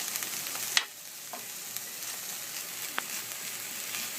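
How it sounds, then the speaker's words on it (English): Broccoli and ground turkey sauté in a pan with a steady, quiet sizzle, broken by a sharp utensil scrape near the start and a few soft clicks as the mixture is stirred. "Going to just stir everything up together and let it saute"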